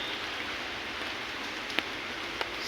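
Steady rain falls outdoors as an even, continuous hiss, with a couple of sharper drop or splash ticks standing out briefly; no voices.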